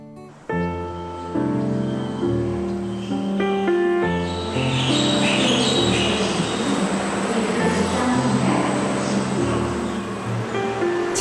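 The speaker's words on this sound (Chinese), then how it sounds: "凌晨六点多从台中市搭火车到彰化二水" Early-morning passenger train running from Taichung to Ershui in Changhua, with a steady rumble and rhythmic rolling noise, sustained tonal hums and shifting pitches as it moves, close and continuous with faint voices underneath.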